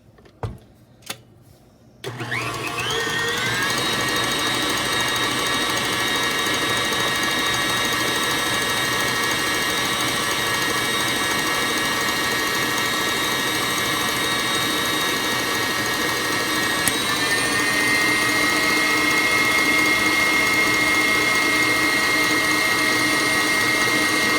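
A stand mixer with a whisk attachment whips cream for hot chocolate, starting after a couple of soft knocks, then a loud, steady high whine and whirr that holds continuously at close range with a slight pitch shift partway through.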